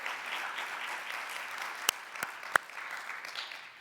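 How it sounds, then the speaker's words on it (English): A large audience at an annual business meeting gives a steady, even round of applause that stays fairly faint and distant, with a few sharp clicks near the end. "Could we have another round of applause for Teresa?"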